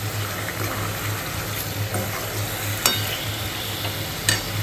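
Marinated chicken for biryani, seasoned with turmeric and chili, being stirred in a pan: a steady sizzling bed with a low hum and a few sharp scraping clinks, without speech.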